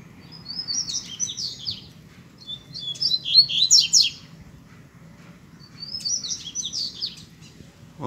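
Wild yellow-bellied seedeater (papa-capim) singing in scrub, three bursts of bright, twittering song, fairly near, over a low steady background hum.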